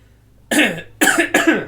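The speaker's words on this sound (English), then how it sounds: "sorry about all the coughing" Three harsh coughs close to the microphone, one single and then two in quick succession, against a quiet background.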